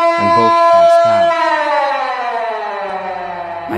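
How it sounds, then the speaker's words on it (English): An extremely loud, sustained siren wail from a Roblox horror game, rich in stacked harmonics that glide slowly downward, with a few low pulsing tones early and a deep hum near the end. "an incredibly loud sound of the siren deafened and stunned them both"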